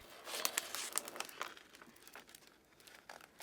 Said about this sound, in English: hinge this up and peel off our release paper again